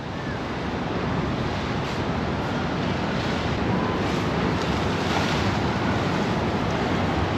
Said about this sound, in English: We've found the East River again, and it looks like it's high tide. Quite choppy as well.